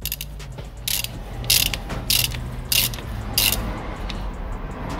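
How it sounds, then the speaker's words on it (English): Half-inch ratchet with an extension and 27mm socket being tightened by hand on a 2018 Mercedes E-Class: five loud bursts of rapid pawl clicking, close by, separated by brief pauses. "just a normal ratchet, half inch ratchet, 27mm socket, extension, and that's it. Hand tight, let's go."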